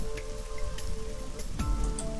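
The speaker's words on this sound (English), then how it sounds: "The rain is depressing." Steady rain falls in the video game AI: The Somnium Files, a soft continuous patter with faint drips running through the whole stretch at moderate level, with no talk.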